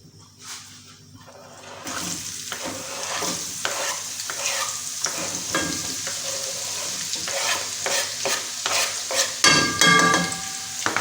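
Onions drop into hot oil with cumin and ajwain for Behari qeema. After a brief quiet start, a sudden sizzle swells into continuous close frying, punctuated by repeated stirring clatters.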